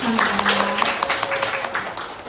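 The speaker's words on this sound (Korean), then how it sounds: "두 분을 위해서 다시 한번 큰 박수 드리겠습니다." Steady applause from an indoor audience at a corporate event, honoring two group leaders; dense clapping fills the moment, with a faint tone and a voice briefly beneath it.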